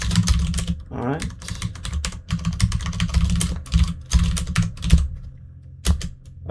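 Brisk typing on a Das Keyboard computer keyboard: dense bursts of sharp, close key clacks in irregular rhythm with short pauses, under intermittent speech.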